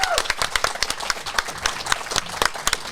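Audience applause at a live sports comedy show in Bobcaygeon, with scattered individual claps and a few voices over a steady crowd wash, fairly close and lively for about three seconds.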